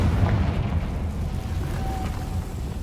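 In Hogwarts Legacy, a Confringo fire spell erupts with a moderate booming burst, then trails off into a steady, low rumbling wash.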